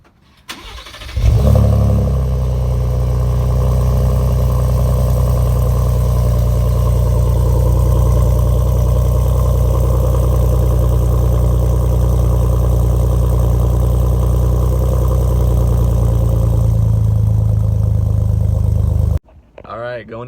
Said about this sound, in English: what I'm going to start with is the MagnaFlow 3 Series catback exhaust system